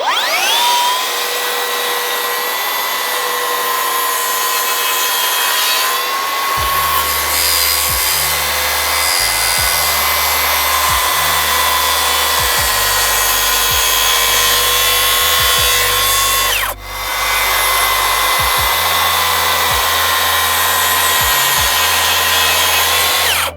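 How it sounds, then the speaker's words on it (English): A track saw cuts the horns off wooden gate posts, a loud continuous whining roar over a low motor hum, with a short dip in the middle before the cut carries on. "I've set my track saw up just so we can cut these horns off"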